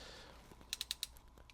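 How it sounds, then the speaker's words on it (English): A ratcheting crimper closes on a red connector over 16 gauge wire, giving four quick, crisp clicks in a row and then a few fainter ticks, close and otherwise quiet. "This ratcheting connector does a great job, or ratcheting crimper does a great job connecting those"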